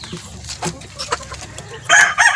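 Farmyard chickens and roosters, including future brood hens, give scattered clucks and short calls with a louder crow-like burst near the end, fairly close, with faint background noise.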